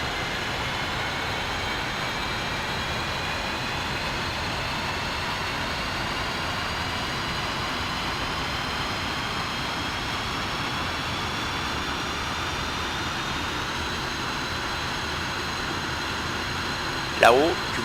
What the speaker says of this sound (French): Voilà, là, ce que tu entends, c'est le moteur droit.